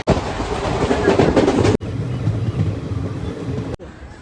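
A departing train gives a loud, steady rumble and rattle of rolling wagons, broken by abrupt cuts, with a brief quieter rush of noise at the end.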